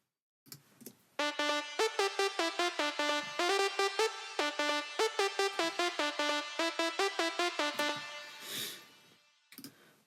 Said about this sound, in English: Obviously it's called Isla Synth, so no prizes for guessing where that particular sound has come from